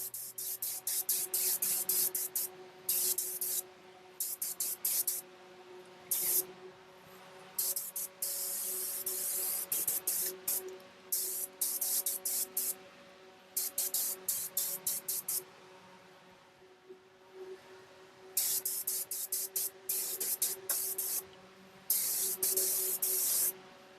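A spray gun lays down a first coat of paint on a Scion tC. Bursts of close, loud hissing start and stop repeatedly over a faint steady background hum, with no voices.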